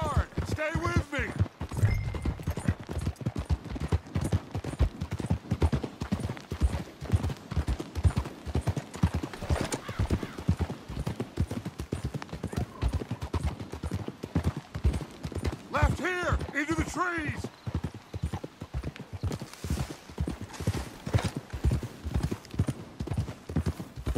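Horses gallop hard through the Red Dead Redemption 2 game world, a steady, close, rapid clip-clop of hooves running the whole way beneath tense shouted dialogue between riders.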